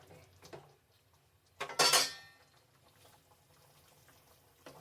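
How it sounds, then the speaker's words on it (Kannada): Mushrooms are tossed into a cooking pan with spices and stirred. A few soft scrapes and clinks of a utensil on metal are followed by one louder clatter near the middle over a quiet sizzle. "ಮಶ್ರೂಮ್ ಹಾಕ್ಬಿಟ್ಟು ಚೆನ್ನಾಗಿ ಮಳ್ಸೋಣ"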